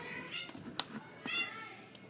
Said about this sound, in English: Sorry, my cats here are...